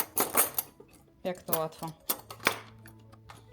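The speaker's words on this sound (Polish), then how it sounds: "po prostu odkładamy widelce w wyznaczone miejsce" Metal forks clatter and click as they are dropped into a kitchen drawer organizer, a few sharp clinks close up while someone talks.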